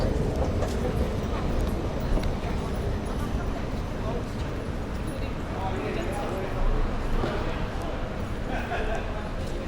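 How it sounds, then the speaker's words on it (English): A Sydney Metro single-carriage train carries a steady, loud rumble of wheels and motor through the whole stretch, with faint clatter on top and voices murmuring beneath. "this single carriage train doesn't go to the airport."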